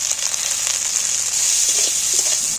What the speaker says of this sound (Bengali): পেঁয়াজ আর ক্যাপসিকামটা ভাজা হয়ে গেছে